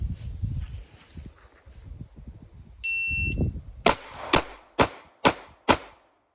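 A Sig P365 AXG Legion pistol fires five sharp, loud shots in an even, quick string, preceded by a short electronic beep, with low murmuring voices before the shooting starts.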